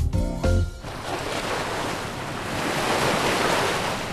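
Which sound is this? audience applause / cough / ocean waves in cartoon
ocean waves in cartoon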